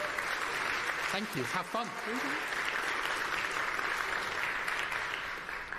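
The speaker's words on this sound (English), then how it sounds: "Can we please give a huge round of applause to Ya-wen?" Audience applause for a speaker taking the stage at the App.js 2026 tech conference, a steady crowd clapping throughout with a brief spoken thank-you in the middle.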